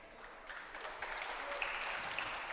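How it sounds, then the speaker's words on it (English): Crowd applause at a girls' varsity high school basketball game as a player heads to the bench, a steady broadband clapping that swells and holds for a couple of seconds in a gym. "She gets a nice ovation from the crowd as she gets to take a seat for the first time in a while."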